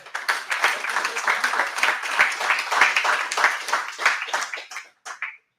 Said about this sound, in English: maybe we can give a round of applause for this achievement